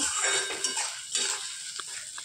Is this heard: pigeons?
no